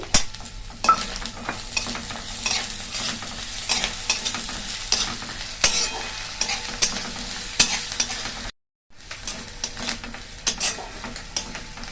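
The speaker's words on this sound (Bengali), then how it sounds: "নারকেলটা একটু লালচে করে ভাজবো।" Grated coconut frying in a pan with grated ginger and slit green chillies, stirred steadily: a close, continuous sizzle broken by frequent scrapes and clinks of the spatula, with one brief silent gap near the end.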